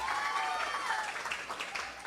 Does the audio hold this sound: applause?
yes